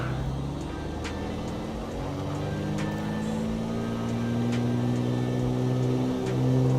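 A single-engine propeller aircraft engine in Microsoft Flight Simulator 2020 powers up, its droning hum climbing steadily in pitch and growing louder, with soft clicks over the top.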